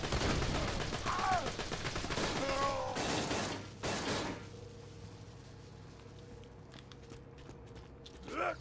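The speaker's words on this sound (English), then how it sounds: "Shoot him in the foot, shoot him in the foot." Gunfire in the Borderlands 2 video game, during a prison-break fight. Loud rapid bursts of shots fill the first few seconds, then fade to a quieter background hum with a brief final burst.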